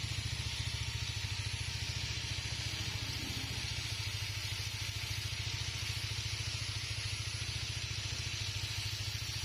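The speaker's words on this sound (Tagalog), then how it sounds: "Pinaandar po yung motor dyan, habang ginagrinder para pantay-pantay." A scooter engine runs steadily, loud and unbroken, with a low rhythmic idle pulse while a repaired thread is ground even in a motorcycle repair shop.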